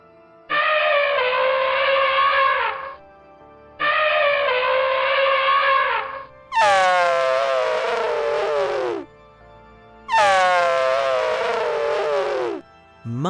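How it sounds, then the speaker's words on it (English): Elephant trumpeting from an animal sound effects set, four loud, bright blasts of about two to three seconds each, the first two steady and the last two higher and sliding downward, heard alone with brief gaps between them. "Elephant."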